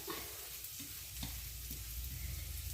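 A spoon stirs ground coconut paste into a pan of frying tender jackfruit thoran, giving soft scraping strokes over a steady close sizzle, with no talking.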